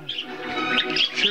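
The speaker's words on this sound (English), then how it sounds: "chirping, singing, and chortling over here." Pet budgies chirping and warbling nonstop at close range, a dense, bright stream of twittering song notes that rises and falls without pause.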